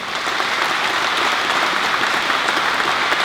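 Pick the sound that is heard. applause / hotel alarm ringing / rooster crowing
applause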